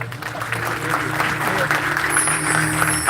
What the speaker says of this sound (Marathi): आता झालेल्या सादरीकरणासाठी जरा जोरदार टाळ्या वाजवा